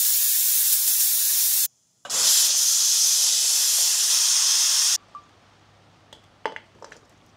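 A pressure cooker boiling beef hisses loudly with steady, close steam jets in two long bursts separated by a brief gap, then falls quiet apart from a few faint clicks.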